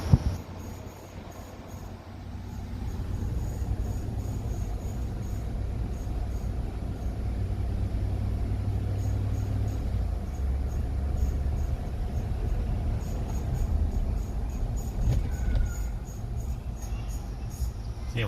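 Rear differential noise from a 2013 Chevy Suburban LT 4WD while driving, a steady low rumbling drone under road and cabin noise, continuous throughout with brief light sounds near the end.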